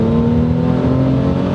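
A supercharged Ford Mustang with a 3.7 V6 engine builds boost, its engine note a loud, close, sustained droning whir that holds steady across a brief moment.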